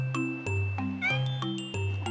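A street cat in Croatia meows several times in a row, close and clear, each cry short and tonal with brief gaps between them.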